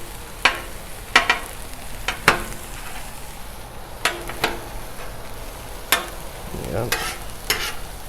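Bacon and big chunks of onion sizzle on a 36-inch Blackstone griddle, with a steady hiss punctuated by sharp scrapes and taps of a metal spatula; one brief word is spoken.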